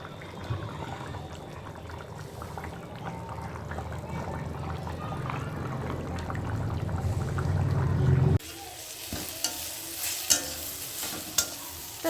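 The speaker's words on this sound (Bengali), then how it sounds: "দেখো নিম পাতা ভাজা এই যে তেল দিয়ে চচ্চর করে" Neem leaves fry in oil in a pan with a steady crackling sizzle and stirring, and someone talks over it; later there are sharper scrapes and clinks.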